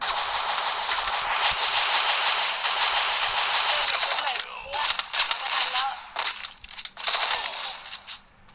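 Gunfire in a shooter video game, dense rapid bursts of shots rattling almost continuously for several seconds, then breaking into choppier separate volleys, loud and close.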